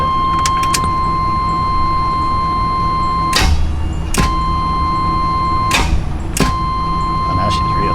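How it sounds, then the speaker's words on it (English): A van's starter motor cranks an engine that is stuck, in four short, harsh bursts over a steady whine, with pauses between each attempt. "let's just see if the starter motor has enough to get past it"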